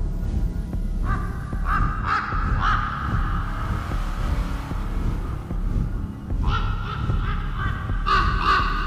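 Birds caw in the video game Rise Of Insanity, two bursts of repeated harsh calls, three or four each, over a dark droning ambient background.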